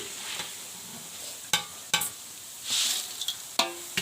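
Dal mudi frying in hot oil, a soft continuous sizzle broken by a few sharp clinks of a metal utensil and a brief hiss, close and fairly quiet.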